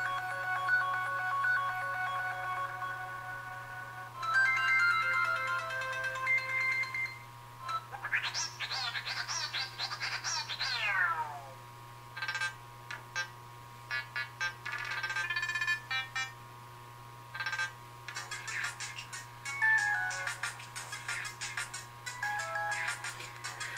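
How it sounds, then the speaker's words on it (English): A ColMi i2 smartwatch plays through a series of different ringtones from its small side speaker: electronic melodies and tone patterns, one after another with brief pauses, over a steady low hum. "Some of these devices, they come with, like, you know, 6 ringtones."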